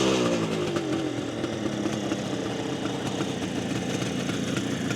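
A 1972 Kawasaki H2 750 Mach IV with a fully rebuilt engine idles steadily, its two-stroke burble loud and close with a rough, uneven throb and no voices.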